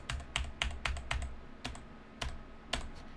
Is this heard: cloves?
no